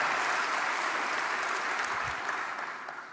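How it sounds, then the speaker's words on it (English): Sparse, scattered clapping from a lecture audience at Portland Arts & Lectures, thin and fading toward the end. "I'll take scattered applause, if you like."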